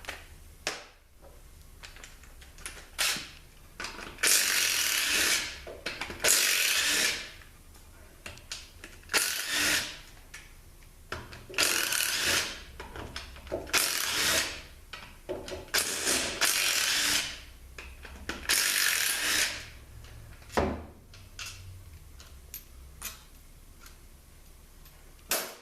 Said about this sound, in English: see if we can get these pump bolts out,